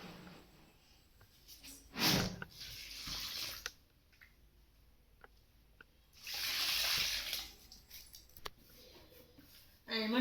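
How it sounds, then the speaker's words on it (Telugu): Water poured into sakinalu rice flour dough comes in several short splashing bursts with quieter gaps between them, close by and moderately loud. "ఇప్పుడు మనం వాటర్ పోసుకుందామండి"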